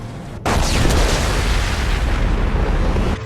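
A loud explosion in the video game Mass Effect 2 hits with a sudden blast, then rolls into a heavy, sustained roaring rumble that fills the whole stretch without voices.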